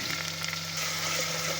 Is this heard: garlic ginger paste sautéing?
yes